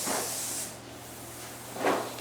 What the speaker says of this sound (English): Now comes the spray.